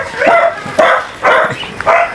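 Dogs inside a house bark in a quick series of four loud, close yips and barks, spaced about half a second apart, with little else around them.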